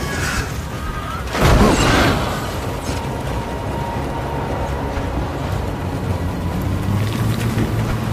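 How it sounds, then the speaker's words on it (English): A boat engine stalls in the Death Stranding video game: a low mechanical drone runs throughout, broken by one loud, rough burst near the start before the hum carries on unevenly. "The engine stalled."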